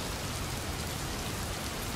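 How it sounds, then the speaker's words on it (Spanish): Heavy rain falls steadily in a dense, even hiss of drops on surfaces, close and continuous with no voices. "Llueve tanto."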